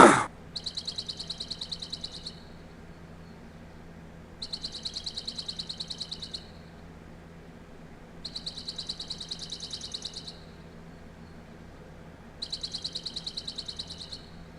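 Bursts of high bird chirping from the Payday 2 video game repeat in four evenly spaced two-second runs over a steady low jungle-like ambient hum, with a short click at the start.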